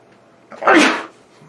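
A single loud sneeze bursts out at close range, rising and fading within about half a second against a quiet background.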